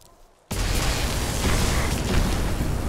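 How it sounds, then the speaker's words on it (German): After a brief quiet moment, a sudden loud burst of explosion noise in the video game Magicka erupts and continues as a dense, rumbling roar. "So viele Explosionen."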